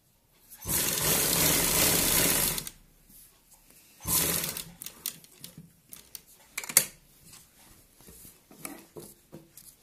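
A sewing machine stitches the centre seam of a round collar neckline in two bursts, a steady whirring run of about two seconds and a shorter one, followed by soft handling clicks and rustles.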